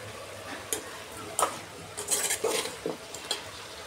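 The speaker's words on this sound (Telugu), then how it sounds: "ఇప్పుడు బాగా ఒకసారి మిక్స్ చేసుకున్నాము." Vegetable curry being stirred in a pan after salt goes in, a spoon scraping and clinking against the metal in several short strokes over a faint sizzle, close and alone.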